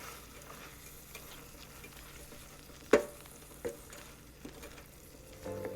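Shredded paneer frying and being stirred in a pan for paneer bhurji, a soft continuous sizzle with faint scraping, and one sharp clatter of the spoon against the pan near the middle followed by a few lighter knocks.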